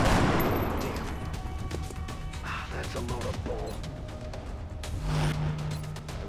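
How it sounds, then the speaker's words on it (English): Gunfire in XCOM Enemy Within, a loud shot at the start followed by scattered rattling bursts and impacts amid a noisy battle mix, with a brief mechanical tone near the end. "Hostile fire incoming. Shooting at him."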